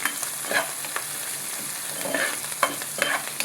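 Green chillies fry in a hot pan with a steady close sizzle, while a utensil stirs them and scrapes the pan in short intermittent strokes.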